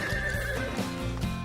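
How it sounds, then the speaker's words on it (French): A horse neighs in a loud, close, wavering whinny that runs throughout, with hoof clops underneath. "Alors, s'il n'est pas pour Marion, Je m'occupe de ton nouveau cheval."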